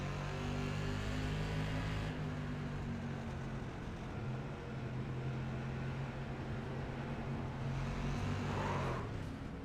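Onboard engine of Rob Higgins' SK Modified race car, a steady loud droning roar held throughout with a slight dip and rise near the end, no voices.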